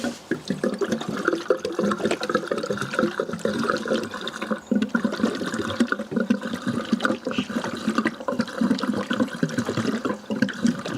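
Diesel pours back into the fuel tank of a BMW E46 3 Series, a continuous, close liquid gush and splash that runs steadily for about eleven seconds with no talking.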